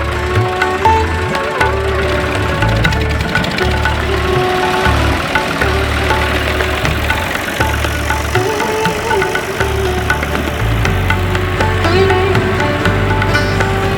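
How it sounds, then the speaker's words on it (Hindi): A tractor pulling a trolley runs with a steady, loud engine hum and an uneven knocking pulse through a village setting, with no speech over it. "गांव की ज़िंदगी में ट्रैक्टर ट्राली को बड़ी अहमियत हासिल है।"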